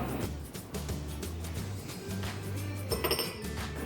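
Egg and vanilla are mixed into white chocolate brownie batter with a utensil in a bowl, steady soft rhythmic stirring with light clinks, a quick burst of brighter clinking toward the end.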